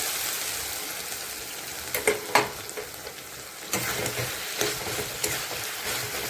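Mustard seeds and cumin tempering in hot oil: a continuous, loud sizzle and crackle with a few sharper pops and spatters breaking through the steady frying hiss.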